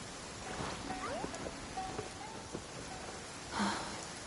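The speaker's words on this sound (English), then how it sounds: "It's raining." Steady rain makes a broad, even hiss with faint scattered tones and a soft swell near the end, moderately quiet and without speech.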